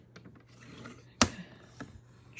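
A paper trimmer slices through a laminated pocket in one sharp, close crack of a cut, set among quieter scraping and handling of the plastic sheet.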